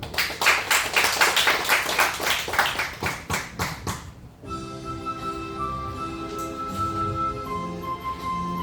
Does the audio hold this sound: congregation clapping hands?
yes